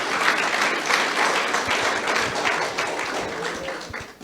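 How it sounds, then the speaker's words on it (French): Congregation at a church service clapping for themselves, a dense, steady wash of many hands applauding together, fairly loud and sustained throughout with a few cheers mixed in. "Clap for yourself."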